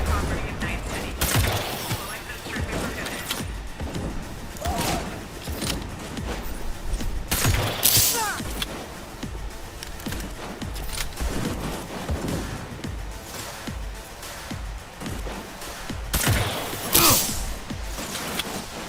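Rapid rifle gunfire in the video game Cyberpunk 2077, loud bursts and cracks recurring across the stretch with mechanical clicks between, while someone talks over it.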